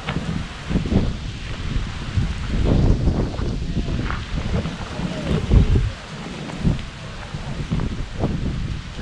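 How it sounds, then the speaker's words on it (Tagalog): Strong, gusty wind sweeps across an open farm with okra plots, buffeting the microphone in uneven rumbling bursts that rise and fall throughout, with no clear talk over it. "Lakas ng hangin dito."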